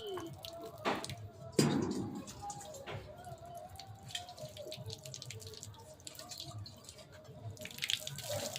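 Water runs and splashes from a tap into a sink or container in a quiet, steady trickle with a few louder splashes and drips, faint and close, with soft voices in the background.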